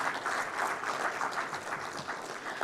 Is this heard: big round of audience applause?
yes